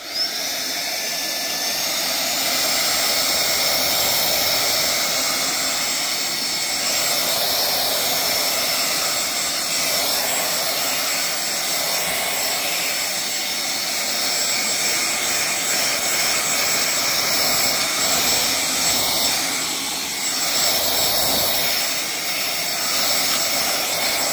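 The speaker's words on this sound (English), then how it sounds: "This is a vac and an air duster. Let's turn it on and check it out." A REESIBI battery-powered two-in-one air duster and vacuum runs continuously with a high, steady motor whine and rushing airflow that stays loud and unbroken throughout, with no one speaking.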